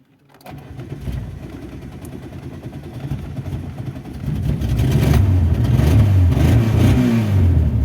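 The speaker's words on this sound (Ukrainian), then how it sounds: "Пробуємо завести лайбочку." VAZ 2109 fuel-injected car starting after cranking, then idling roughly before the engine revs up louder and holds a strong, steady, close growl.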